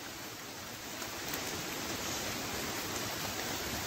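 Steady rain falling on tree cover over a picnic area near caves, a continuous broadband hiss that swells slightly louder partway through, with no talking.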